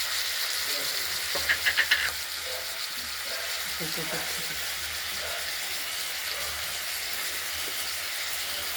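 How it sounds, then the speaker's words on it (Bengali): Giant freshwater prawns fry in hot oil with a constant hissing sizzle, a quick run of sharp clinks from stirring early on, and faint background sounds throughout. "মাছগুলো ভাজবে ভাজা হোক"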